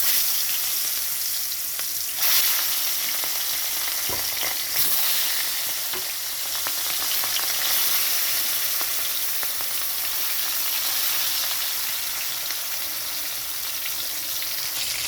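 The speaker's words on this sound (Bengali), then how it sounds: "কড়াইতে তেল দিয়েছি সর্ষের তেলটা গরম হয়ে গেছে তো এখানে আমি মাছগুলো ছাড়ছি ভাজার জন্য" Katla fish, rubbed with salt and turmeric, frying in hot mustard oil in a wok: a loud, steady, dense sizzle that runs unbroken throughout, with a few brief spatters and no talking.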